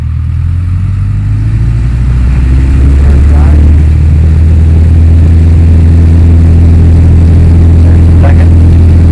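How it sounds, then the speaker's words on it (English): A floatplane engine at a Florida seaplane base drones loudly and steadily as power is smoothly increased toward full throttle for takeoff, heard from inside the cockpit with a faint voice underneath. "adding power. Smoothly increase to full throttle."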